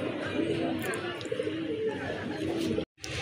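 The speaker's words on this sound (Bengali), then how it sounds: "আরেক জোড়া বড় পায়রা কবুতর" Large pigeons in a loft or coop give low, repeated cooing calls, steady and fairly close, over a continuous murmur of background noise, with a short silent gap near the end.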